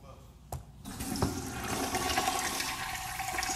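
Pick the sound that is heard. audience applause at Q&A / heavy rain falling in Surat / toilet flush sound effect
toilet flush sound effect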